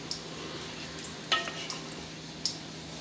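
A pot of veg biryani with added coriander is stirred, making a soft continuous sizzle with a few light scrapes and clinks from the spoon against the pot.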